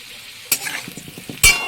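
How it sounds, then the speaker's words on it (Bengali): Potato and papaya pieces frying with a little turmeric in hot oil in a kadai, a soft steady sizzle with stirring scrapes and two sharper bursts of spitting. "একটুখানি হলুদ দিয়ে ভেজে নেব"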